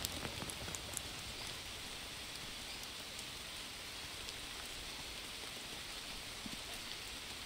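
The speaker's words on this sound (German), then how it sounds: "Der Regen ist natürlich jetzt nicht gut für Fieber." Steady rain in the survival video game Green Hell, a dense, even hiss of falling drops with a few sharper patters near the start, continuous and close, with no voices.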